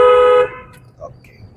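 A car horn gives one short, loud honk at the start and then quickly fades, leaving only faint background noise from inside a car during a driving lesson.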